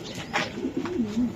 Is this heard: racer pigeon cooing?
yes